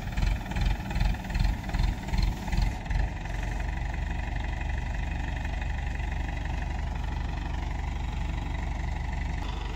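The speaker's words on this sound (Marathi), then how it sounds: "लाईटवर आहे, जनरेटर आहे." A generator engine runs steadily at an outdoor pipe-joining site, a loud continuous low hum that pulses rhythmically for the first few seconds, then settles into an even drone.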